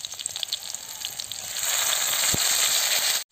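Curry leaves hit hot oil with mustard seeds and chillies in a pan for suji upma, a few light crackles swelling into a loud, steady sizzle that cuts off abruptly at the end, close up, no talking.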